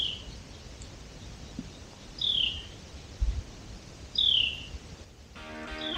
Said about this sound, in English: The birds just came back. You hear that bird back here?